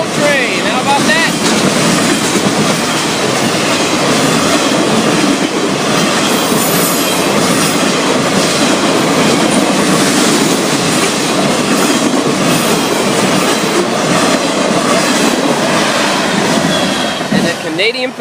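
FEC freight cars roll steadily past close by, a loud continuous rumble with clattering wheels and occasional squeals on the rails.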